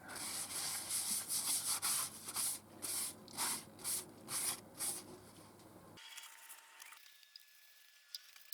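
Rhythmic rubbing strokes applying sanding sealer to a cherry wood bowl, about a dozen brisk back-and-forth passes, then quiet with faint handling noises near the end.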